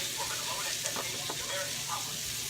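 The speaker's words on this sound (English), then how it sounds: "I'm cooking them in the same black iron skillet with all that goodness at the bottom." Onions sizzle in a black iron skillet for jambalaya, a steady, moderately faint frying hiss with a few soft stirring clicks and scrapes.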